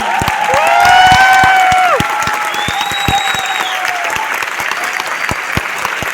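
Audience clapping at a success celebration in Noida, steady crowd applause with a few cheering voices rising early on, sharp individual claps standing out as the clapping continues.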